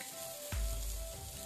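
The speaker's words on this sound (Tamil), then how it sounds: "ஃபிஷ் வந்து இங்கே கிரில் ஆகிக்கிட்டே இருக்கு" Fish on an outdoor grill on a cold night gives a soft, steady sizzle, with a brief thump partway through, heard close and fairly quiet.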